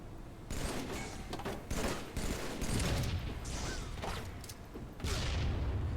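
Weapon fire in Halo: The Master Chief Collection, including a Spartan laser shot, comes as loud bursts and booms of gunfire layered over game combat noise.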